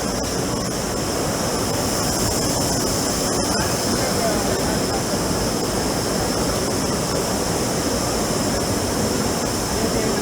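A jet spinning machine runs on the floor of a textile machinery expo, a dense, constant roar of air and mechanical whir with a steady high hiss, unbroken for the whole stretch, with faint voices beneath it.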